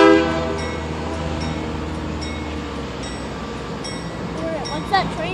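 A Canadian Pacific freight train led by Dash 9 and ES-44 locomotives sounds its horn loudly at the start, then rumbles past steadily, with brief voices and a squeal near the end.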